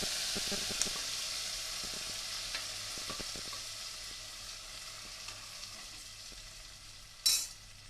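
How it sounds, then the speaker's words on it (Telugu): Tempering sizzling as it is stirred into dal in a pan, a soft steady frying hiss with scattered spoon scrapes and a brief louder splash of sizzle near the end. "ఇప్పుడు పప్పులోకి మనం పోపుని వేసుకుందాం"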